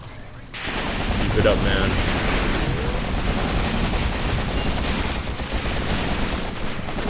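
Sustained machine gun fire in the WWII tactics game Graviteam Tactics: Mius-Front, a dense continuous rattle of rapid shots with distant booms, loud throughout while someone speaks briefly over it.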